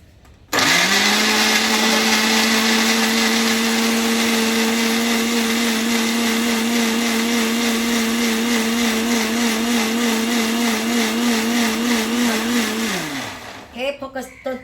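Mixer grinder blending plain strawberries into juice, a loud steady whirring motor hum with a slight wobble, running continuously for about twelve seconds before winding down, with no talk over it.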